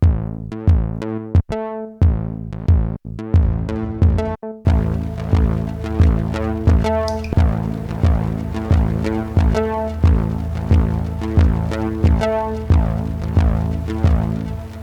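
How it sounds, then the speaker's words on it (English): A synthesizer plays through a large reverb setting on a multi-effects pedal: staccato plucked notes at first, then a lush wash of long tails blurring each repeated note into a sustained, shimmering bed, close and clean with no talking. "Let's add another effect, for example, one of the bigger reverb algorithms here."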